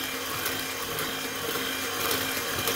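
An electric mixer whisks cake batter in a home kitchen, giving a steady, loud whirring buzz that holds nearly unchanged throughout with no voices over it.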